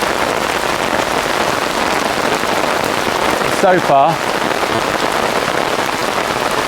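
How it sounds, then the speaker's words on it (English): Heavy tropical rain drums steadily and loudly on an umbrella in a Singapore nature reserve, a dense continuous patter with a brief spoken remark partway through. "this isn't my favourite kind of rain"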